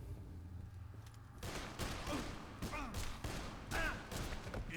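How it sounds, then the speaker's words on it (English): Dead Island gameplay carries bursts of rapid gunfire at moderate volume, several quick volleys starting after a brief quiet opening, with a voice talking over them. "Oh shit, shooting."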